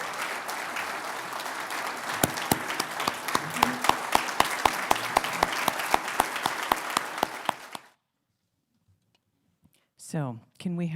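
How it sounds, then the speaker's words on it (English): A large audience applauds at a community honors ceremony in the Appleton area, a dense, steady wash of many hands clapping for about eight seconds before it cuts off into silence, followed by a brief burst of voice at the end. "can we have another round of applause"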